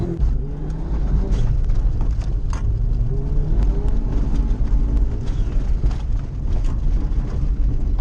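A rallycross car launches hard off the line using launch control, a loud, continuous roaring engine at high revs dominating the scene, with gravel and wind noise underneath and no talking.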